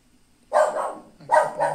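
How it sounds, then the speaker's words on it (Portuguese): A dog barks twice in a house, moderately close, with a short gap between the two barks and faint room noise underneath. "O cachorro começa a latir, né?"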